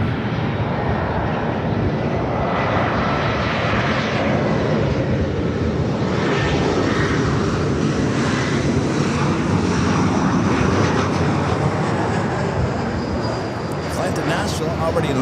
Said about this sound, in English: the Dreamliner heading to Tokyo Narita,